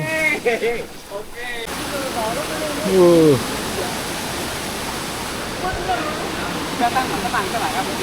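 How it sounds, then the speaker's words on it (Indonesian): A waterfall near Banyuwangi roars with a loud, steady, broadband rush that fills the whole stretch, while several people talk and exclaim over it. "Woi, air terjun."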